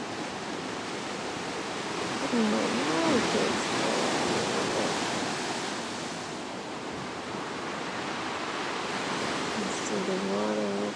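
Rough surf crashes onto rocks at a black sand beach, a loud, continuous roar of breaking waves swelling and easing, while a voice speaks briefly over it.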